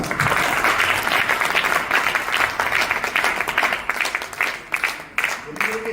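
Audience applause at a motivational business seminar in Hindi, loud continuous clapping from many hands for several seconds, thinning slightly toward the end.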